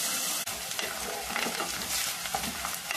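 Chopped onion, green chillies and curry leaves fry in hot oil, giving a close, steady crackling sizzle with occasional stirring scrapes and a brief dip near the start.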